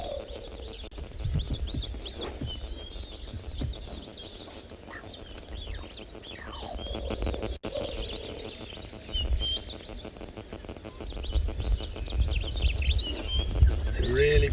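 Varied bird calls and chirps from several birds on a morning safari in South Africa, some near and some distant, over soft outdoor ambience with occasional low rumbles.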